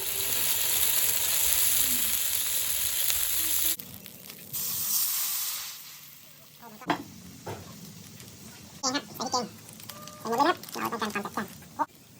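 Curry paste is stir-fried with coconut milk and basil, giving a steady loud sizzle for several seconds that drops away, followed by scraping stirs and clinks, with someone talking over the later part.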